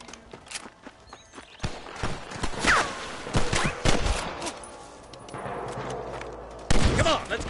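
Rapid bursts of gunfire crack out during a Red Dead Redemption 2 camp shootout, with overlapping shots, horse hooves and shouting voices in a loud, busy mix.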